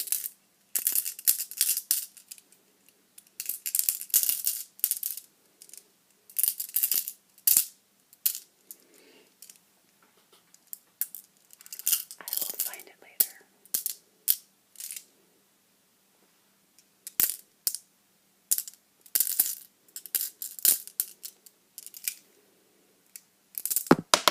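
Small hard crystal pieces clink and rattle together in a hand, in repeated short bursts separated by quiet pauses.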